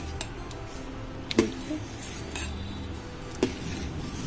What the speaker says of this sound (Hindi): इसे हम मिक्स कर लेते हैं।